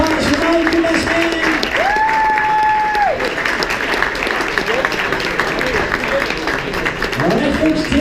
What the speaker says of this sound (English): give it up applause for Mike